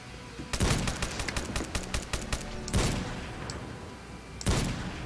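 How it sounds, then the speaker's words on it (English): Desert Eagle pistol fired in a Unity first-person shooter, rapid bursts of loud close shots in a quick volley, then two more isolated heavy shots with echoing tails. "I'm using a deagle, which is an overpowered gun for this level"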